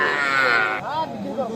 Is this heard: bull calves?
yes